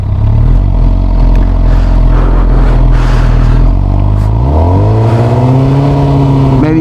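Motorcycle held at high revs for a race-start launch, a loud steady engine drone that climbs sharply in pitch as the clutch is let out and the bike pulls away, close and alone.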